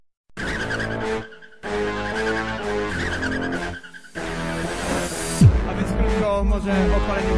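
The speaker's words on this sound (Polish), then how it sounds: "Może w odpaleniu gumy jest to tak zwana utylizacja opon, czyli tak zwany kolejny pokaz mocy." A car does a burnout at a BMW meet, tires squealing loudly over engine roar in long sustained bursts broken by short gaps, the sound rising and sweeping toward the end.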